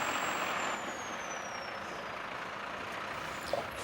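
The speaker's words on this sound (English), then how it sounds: "The CPT rig is then driven to the first location." A CPT rig truck drives along steadily, its engine a broad continuous rumble with a brief brake hiss or clank near the end.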